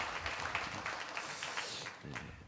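An audience at a church worship service for Liberation Day claps and applauds, a short burst of steady clapping at moderate distance that fades slightly before a final few claps.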